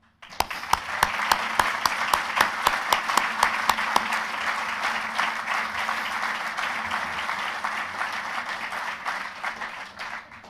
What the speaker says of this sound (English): The only bit that says pause for applause